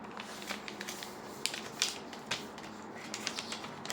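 Paper being folded by hand for an origami crane, with a series of soft, crisp creasing and rustling taps close to the mic, scattered irregularly over a quiet background.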